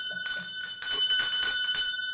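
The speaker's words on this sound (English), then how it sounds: "Pass me that bell." A show host rings a hand bell with a bright, sustained metallic jangle, shaken continuously for about two seconds with a brief break, loud and close.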